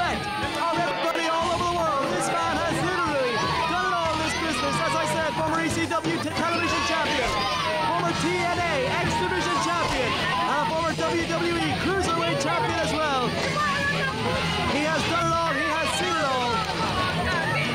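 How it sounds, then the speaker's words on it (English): A large wrestling crowd at a live event in Waterford roars and cheers continuously in a dense, sustained ovation for Kid Kash, loud and unbroken throughout. "What an ovation for Kid Kash here in Waterford."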